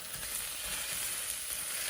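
Humanely raised sausage sits in a pan that started cold, giving off a soft, faint, steady sizzle for a moment with no voices.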